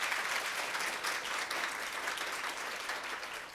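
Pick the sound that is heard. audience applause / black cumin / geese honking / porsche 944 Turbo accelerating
audience applause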